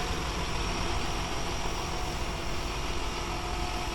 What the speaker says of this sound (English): Got the generator going.